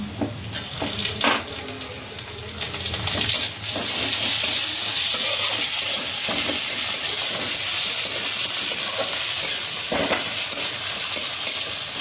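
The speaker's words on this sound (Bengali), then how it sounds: "এবার আমি এর মধ্যে কাঁচা লঙ্কা দিচ্ছি আর টমেটোটা দিয়ে দিচ্ছি।" Green chillies and tomato go into garlic frying in a pan for an aloo chokha dinner, a loud hissing sizzle that surges after the first few seconds and stays steady, with scattered stirring clinks and no talk.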